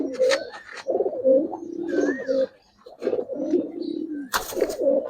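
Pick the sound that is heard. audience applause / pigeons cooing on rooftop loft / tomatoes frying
pigeons cooing on rooftop loft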